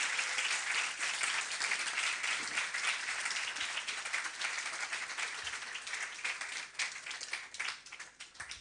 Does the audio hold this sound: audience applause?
yes